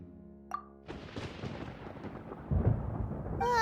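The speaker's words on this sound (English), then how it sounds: "Paimon hears thunder!" Thunder in the Genshin Impact video game: after a brief plop, a deep, broad rumble rolls in and swells, loud and sustained, with no talking.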